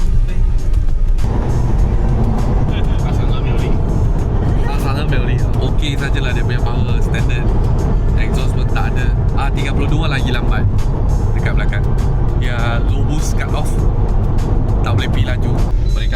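Traffic on a Japanese toll road with ETC electronic gates, near Mount Akina: a steady, loud wash of passing car engines and tyre noise fills the whole stretch, with people talking over it throughout.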